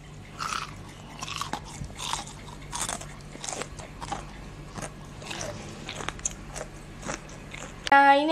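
Repeated close, loud crunchy bites and chewing of a cheap fried street snack, dipped in chili sauce, crisp outside and soft, chewy inside, with irregular crunches across the whole stretch and no talking.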